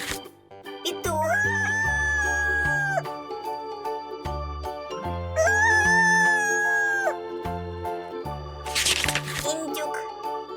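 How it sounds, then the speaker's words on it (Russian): A rooster crows twice in long drawn-out calls over a bouncy children's music backing, each call lasting about two seconds with a pause between. "Петух."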